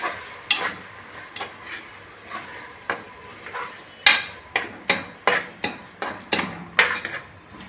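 Tomatoes and ginger-garlic paste cooking in a pan for beetroot pulao, heard as a soft background sizzle broken by a dozen sharp clinks and scrapes of a spoon stirring against the metal, in an irregular rhythm and with no speech.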